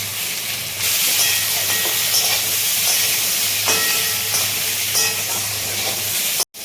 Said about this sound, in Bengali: ছোটো ছোটো করে আলু কেটে ভালো করে হাফ সেদ্ধ করে নেওয়া হয়েছে, সেটাকে তেলের মধ্যে ছাড়ছে মা।